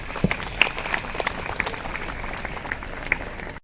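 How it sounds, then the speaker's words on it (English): A school audience claps for the participants of an English skit competition, a steady full round of applause that continues evenly before cutting off. "please give a round of applause to our participants"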